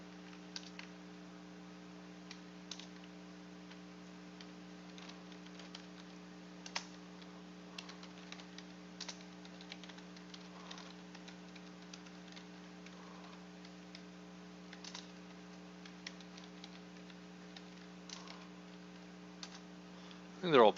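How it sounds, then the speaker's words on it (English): Rapid, irregular keystrokes on a computer keyboard tap along faintly over a steady mains hum, someone mashing keys at random while coding. "Don't mind me just mashing the keyboard here."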